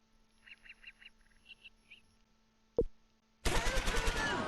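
A single sharp gunshot rings out in the World War II strategy game Close Combat IV, followed by a sustained roar of rapid fire. Faint bird calls sound early on.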